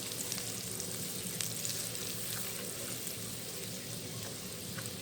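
Butter melting and sizzling in a pan as the start of a white sauce for chicken lasagna, a steady even crackle throughout with no voice over it.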